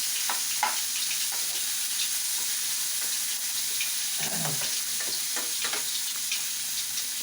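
Onions and chana dal sauté in oil for lemon rice, a steady close sizzle and crackle with scattered spoon taps and scrapes, one louder scrape midway, and no voices.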